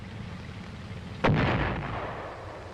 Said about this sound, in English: immediately squeezes the firing trigger